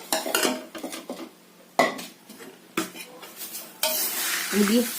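Dry poha being mixed with a spoon in a kadhai for low-oil chivda: repeated metallic scrapes and clinks against the pan in uneven strokes, with a faint sizzle beneath and no talking.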